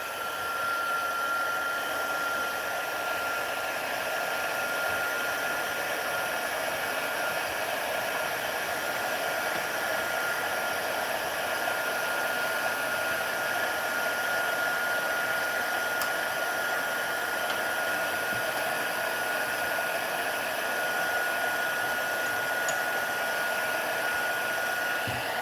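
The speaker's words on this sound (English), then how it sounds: "Now I'm going to heat this with a heat tool." Heat embossing gun blowing steadily for a long stretch while melting white embossing powder on a handmade card, a constant loud whooshing hiss with a faint whine, uninterrupted and without talk.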